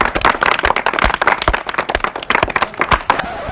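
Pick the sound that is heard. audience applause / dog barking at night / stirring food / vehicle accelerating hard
audience applause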